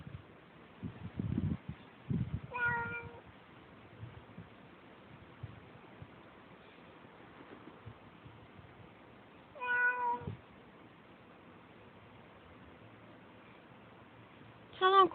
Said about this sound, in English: I don't like that cat in my yard.